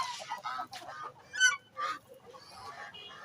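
Ducks kept with Aseel roosters honk in several short, nasal calls, a few louder bursts standing out over faint background chatter of other birds.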